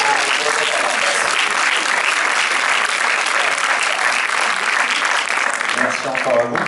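Cinema audience at a film preview applauding the film crew, a full, sustained roar of clapping that stays dense and loud throughout, thinning slightly near the end.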